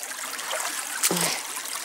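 Water trickles gently in a shallow stream, a soft steady babble with a faint splash near the middle, no voices.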